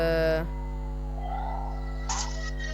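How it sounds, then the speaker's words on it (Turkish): Police sirens in a video game wail briefly and loudly at first, then fade into a steady electronic drone with short tonal bursts later on. "Ah sirenler açıldı."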